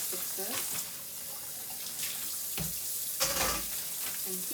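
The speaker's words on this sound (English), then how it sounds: "I want to wash the pork chops and let them dry" Cold tap water running into a kitchen sink while raw pork chops are washed, a hissing broadband stream broken by splashes and handling clatter.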